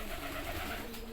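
Soft, continuous pigeon cooing, a low murmuring call that runs steadily through the moment with light background noise.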